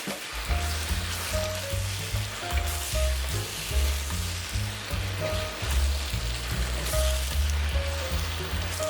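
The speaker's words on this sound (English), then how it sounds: "we can even add a couple dashes of dark soy sauce while tossing it all together" Beef chow fun sizzles loudly in a hot wok as dark soy sauce is added, with a steady crackling fry and rhythmic metallic scraping and tossing of the noodles and beef, no voices present.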